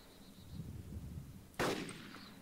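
A single loud, sharp shot from a Vodnik vehicle in the video game DayZ bursts out abruptly after a stretch of low background rumble, then trails off into quieter ambience.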